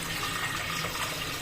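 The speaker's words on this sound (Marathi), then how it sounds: "तर मग यामध्ये आपल्याला गरम पाणीच ऍड करायचं आहे" Hot water pours steadily into a pot of fried rice for peas pulao, a continuous close splashing and gurgling fill with no talking.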